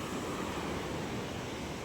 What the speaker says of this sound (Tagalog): Grabe, lalaki na alon, oh.